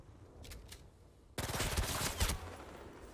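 Enemy gunfire erupts in the Spider-Man 2 video game, a sudden loud burst of rapid machine-gun fire after a quieter stretch, dense crackling shots that rattle on for about two seconds before easing.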